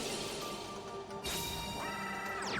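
A smash attack in a competitive fighting video game lands as a sharp crash with a bright ringing whoosh over steady game music, loud and close.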